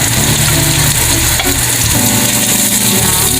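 Onions fry loudly in hot oil for pancit canton, a steady close sizzle overlaid with scraping and clattering as they are stirred around the pan.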